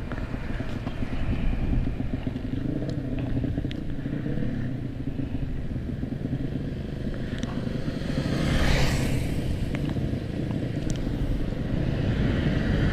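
A Yamaha MX 200cc motorcycle being tuned at the roadside gives a steady, loud engine drone throughout, swelling briefly near the middle, with traffic noise around it.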